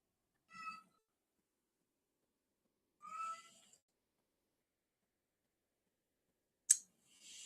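A cat meows in three separate short calls spread apart, the last one sharper and higher, each standing alone against silence.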